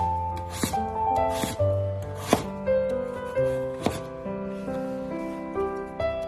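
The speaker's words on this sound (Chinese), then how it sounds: "把胡萝卜切成薄片。" A knife slicing a fresh carrot into thin slices on a board, several crisp chops at irregular intervals over soft background music, with no speech.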